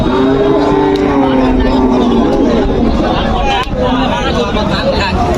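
Cattle mooing at a busy livestock market, drawn-out lowing calls over a constant hubbub of crowd voices and background noise.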